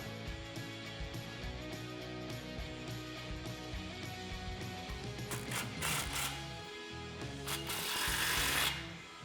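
A fastener on an exhaust clamp for a 2009-2014 Dodge Challenger 5.7L Flowmaster Outlaw cat-back system being tightened with a power driver, a close whirring buzz in bursts that ends in a louder ratcheting run.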